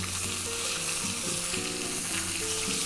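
Cumin seeds sizzle steadily in hot oil in a pan, frying for a colocasia stem gojju; a close, continuous crackle with no voices.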